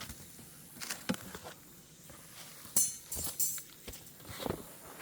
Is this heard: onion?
no